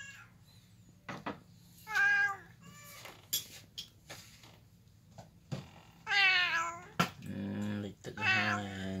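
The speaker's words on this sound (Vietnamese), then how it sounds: "mèo" A cat stranded by October 2020 flooding in Banteay Meanchey meows repeatedly, with several drawn-out, wavering cries close by between quieter pauses.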